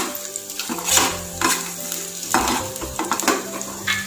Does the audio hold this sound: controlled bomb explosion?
no